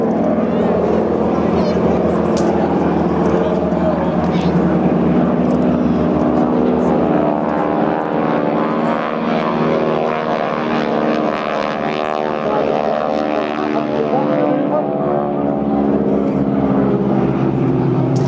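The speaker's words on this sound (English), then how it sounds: "So all 4 wings have ailerons fitted to give the aircraft an improved rate of roll." A Pitts Special aerobatic biplane, fitted with ailerons on all four wings, drones steadily through a display at the Clacton air show with a loud, continuous propeller-engine tone. Commentary plays over it.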